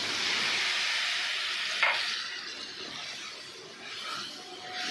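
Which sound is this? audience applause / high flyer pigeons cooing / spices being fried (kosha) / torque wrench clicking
spices being fried (kosha)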